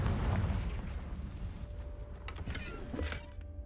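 A Confringo fire spell blasts in Hogwarts Legacy, a loud low boom at the start that rumbles down into a fading roar, followed by a few light crackles and clicks.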